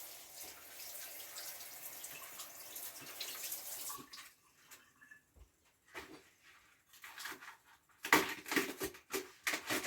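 Tap water runs into a kitchen sink as green beans are rinsed, a soft steady stream first, then broken, splashy gushes and clatter as the beans are handled, with no talking.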